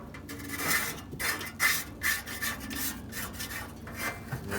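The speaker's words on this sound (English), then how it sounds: "I'm gonna scrape all these flavorizer bars down." Metal scraper rasping across Weber SmokeFire grill flavorizer bars, a series of repeated close scraping strokes in an uneven rhythm, with no talk.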